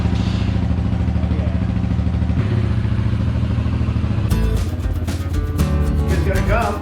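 A small 250cc engine on a homemade mini gator cranks and catches, then clatters and revs unevenly at close range with loud mechanical rattle.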